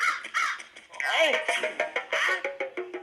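Harsh, repeated crow caws come in quick bursts, close and fairly loud, with voices talking over and between them.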